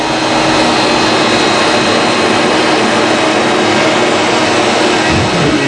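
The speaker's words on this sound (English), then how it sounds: "Then I'm going to turn on my vacuum. It's going to get louder. And the spindle is on." A loud, continuous machine roar, a CNC spindle carving wood and a vacuum running together with a steady broadband whine that stays constant throughout.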